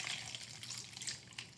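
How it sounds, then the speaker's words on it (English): Water pours into a toy dinosaur egg, a faint, steady trickle and splash that keeps going for under two seconds, with no voices. "I've also been told I need to pour in some water."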